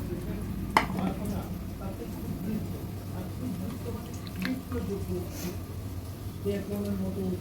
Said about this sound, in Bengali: বয়েল করা কুমড়ো ডাঁটাগুলো সেকে নিচ্ছি